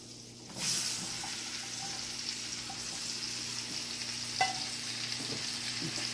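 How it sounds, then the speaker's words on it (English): Thick rounds of sliced red onion hit a hot pan and sizzle loudly, a bright steady crackle of frying that settles into an even hiss, with a sharp clink of a utensil partway through. "now we're just going to saute these onions until they get nice and soft and translucent"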